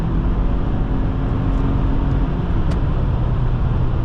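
Interior view from a 2005 Subaru Outback 2.5 XT under way, giving a steady low engine and road drone with constant cabin noise throughout.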